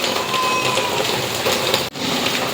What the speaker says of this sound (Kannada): ಸೊ ಜೋರು ಭೀ ಅದ ಮಳೆ